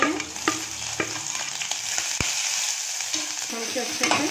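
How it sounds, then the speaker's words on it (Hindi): Cumin seeds, two bay leaves and fresh garlic sizzle steadily in hot oil for a vegetable kofta biryani, a continuous bright frying hiss broken by occasional stirring clinks and scrapes, close and with no voices. "इसमें डाल देंगे 1/4 चम्मच जीरा, दो तेज पत्ता, लहसुन फ्रेश किए हुए रखे थे वो डाल देंगे"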